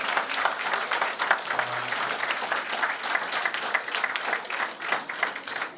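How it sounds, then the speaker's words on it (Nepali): A college event audience at a carnival session breaks into sustained applause, many hands clapping densely and evenly at moderate level, with no talk over it. "एकचोटि सबैले जोरदार ताली बजाउनु"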